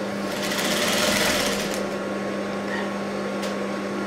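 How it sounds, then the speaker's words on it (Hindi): A sewing machine stitches a blouse seam along a folded edge, running steadily with a loud, even mechanical whir and rapid needle clatter throughout, close by and alone. "और कोने में सिलाई मारते जाना है।"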